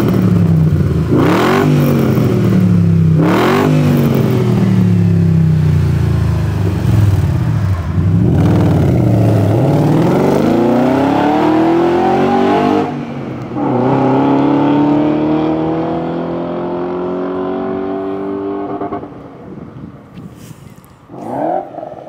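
BMW 7 Series engine with an X-pipe exhaust revving hard several times, loud rising roars and falling drops, then a long climbing rev that fades toward idle, heard close and alone.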